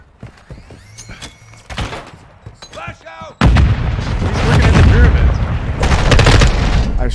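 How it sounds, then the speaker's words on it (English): Heavy gunfire in a multiplayer video game, a sparse run of sharp shots followed by a loud, dense stretch of rapid blasts and booms, close and dominant. "I shot you square in the face."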